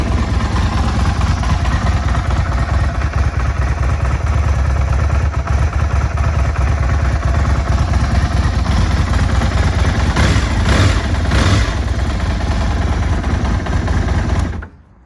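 A 1999 Aprilia RSV 1000 Mille with about 11,000 miles idles with the choke off, a loud, close, steady low throbbing that runs evenly for about fourteen seconds before cutting off.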